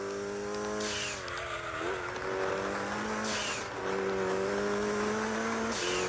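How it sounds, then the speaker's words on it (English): Turbocharged Mitsubishi Evo rally car in Gran Turismo 2 on a dirt route, its engine revving hard and loud and climbing in pitch through repeated gear changes, with a turbo whoosh between shifts. "Ooh, nice turbo sounds too."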